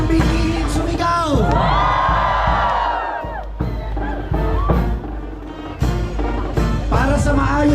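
A crowd at an Obando fiesta rally for Nuestra Señora de Salambao erupts in loud shouts and whoops on cue, a dense roar of voices that eases briefly before rising again in bursts.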